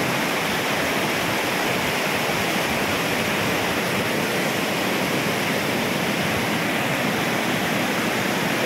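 Bolinao Falls pours in a constant, dense rush of water, a loud, unbroken hiss and roar with no voices heard.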